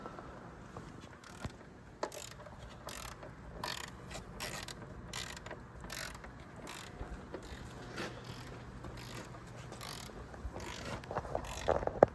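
A ratchet clicks steadily while loosening a front strut nut on a 2014 Volkswagen Tiguan 2.0L AWD. The rapid pawl ticks come in bursts of strokes at close range, faint and alone with no talk.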